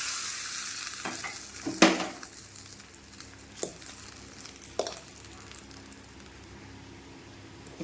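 Hot curry leaf tempering is poured into turkey berry chutney, giving a crackling sizzle with a few sharp pops and stirs that settle into a fainter hiss, with no talking.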